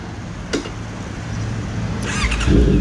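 A motorcycle with an SC Project exhaust drones steadily nearby while riding, with wind noise, a brief squeal early on and the exhaust growing louder and rougher toward the end.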